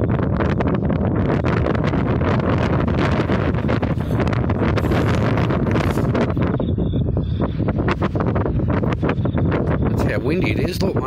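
Strong wind during a thunderstorm buffets the microphone in loud, continuous gusts with roaring noise that swells and fades, and some speech is partly buried underneath.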